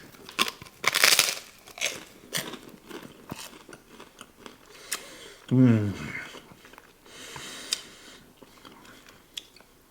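Salt and vinegar chips crunched while eating: a loud, sharp crunch near the start, then a burst of chewing and crinkling around the middle, with quieter bites and mouth sounds throughout.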